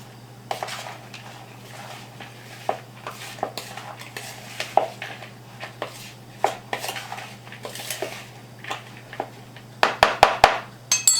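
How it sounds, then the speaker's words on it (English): Flour, oregano, garlic powder and onion powder are stirred into a quiche filling, with a spoon scraping and clinking against the bowl in irregular strokes, finishing in a quick run of sharper taps. "I'm going to sprinkle that in and stir it around"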